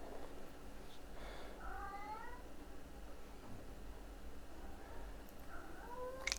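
A cat meows several times in drawn-out, rising and falling calls, soft and moderately close, with a brief break before the later cries over a steady low background hum.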